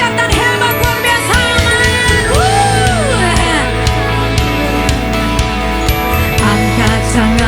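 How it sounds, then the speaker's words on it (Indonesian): A church congregation cheering and shouting during a worship celebration, loud crowd whoops and yells layered over amplified music, with sustained voices rising and falling throughout. "Sorak-sorai lebih keras lagi"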